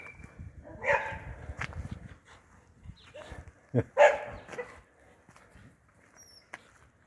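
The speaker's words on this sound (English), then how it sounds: "sounds like we have a little bit of a dog argument going on" Dogs bark and yip back and forth in short, scattered bursts, some close and sharp, others whiny, with quiet gaps between.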